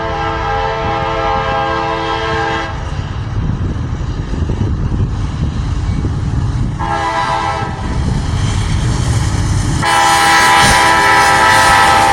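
A long M565 freight train passes close by, its horn sounding loudly in bursts over a continuous rumble and rattle of wheels on the rails.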